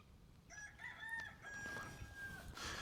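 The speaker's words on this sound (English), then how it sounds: "That's the hen I've been looking for." A rooster or hen on a farm gives a drawn-out crowing call, clear and fairly close, over a low background hum with no talk.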